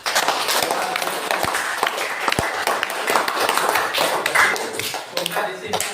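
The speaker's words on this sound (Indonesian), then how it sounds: "Kasih aplaus untuk temanmu." Classmates clap for a student in a school classroom, a few seconds of scattered, uneven applause with sharp individual claps, and a teacher talks over it.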